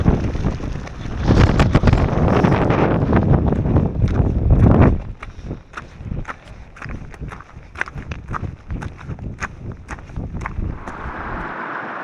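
Strong winter gusts buffet the microphone on Blencathra, a roaring broadband rush for the first five seconds, then easing into choppier, intermittent buffeting with sharp bursts close to the mic.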